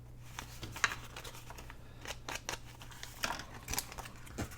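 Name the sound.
trimming a piece off a paper bag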